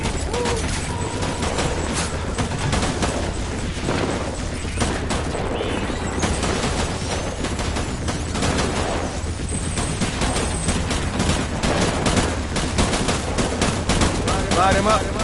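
Gunfire in Death Stranding on the hardest difficulty: dense, loud automatic weapon bursts and sharp shots crackle nonstop with occasional heavier blasts, while voices shout over the fighting.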